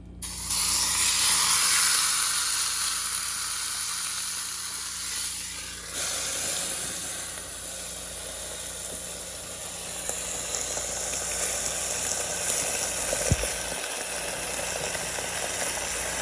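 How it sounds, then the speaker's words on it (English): Chuck steak sears on a Cinder grill at 405 degrees, finished with a flame torch on the fat, giving a loud, steady hiss and sizzle that holds throughout with a brief sharper crackle near the end. "So we're doing a long sear to 1 minute and 15 for a total of 2 minutes"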